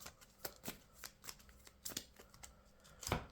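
Playing cards shuffled during a Yu-Gi-Oh card game, heard as a series of crisp riffling bursts spread across a few seconds, with a louder burst near the end, close and fairly quiet.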